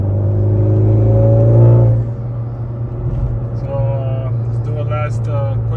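A tuned 2019 Honda Accord 2.0T pulls hard, its engine rumbling and rising in pitch for about two seconds before settling into a steady drone, with a voice talking over the rest.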